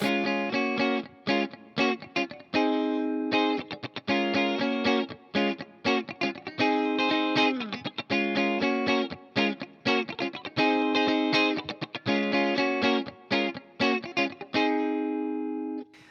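A distorted electric guitar strums triad chords in choppy rhythmic bursts, changing chords every few beats, loud and close with short gaps between stabs.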